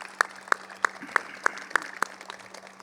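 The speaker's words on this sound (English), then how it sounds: "let's give that applause" Applause at the unveiling of the Oliver Lewis statue honoring the jockey in Louisville: about seven distinct, evenly spaced claps ring out over a low steady hum.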